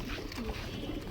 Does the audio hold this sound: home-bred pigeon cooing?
yes